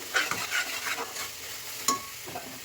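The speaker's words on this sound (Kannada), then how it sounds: "ಘಮ ಬರಬೇಕು, ಅಲ್ಲಿವರೆಗೂ ಚೆನ್ನಾಗಿ ಫ್ರೈ ಮಾಡಿದ್ರೆ" Ingredients for menthya pulao fry and sizzle in a pan while a utensil stirs them, giving soft, irregular scraping strokes over a quiet, steady sizzle with one sharper clink of metal.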